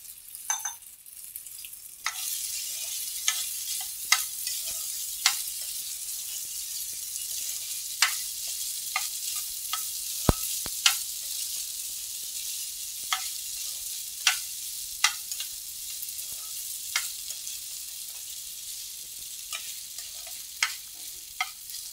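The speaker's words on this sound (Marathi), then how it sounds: "याच्यावरती आपण साबुदाणा आहे तो परतून घ्यायचा आहे." Sago pearls sautéed in oil with cumin and chillies for sabudana khichdi: a continuous soft frying hiss with regular sharp clicks and scrapes of a spatula stirring, near and steady, no talk.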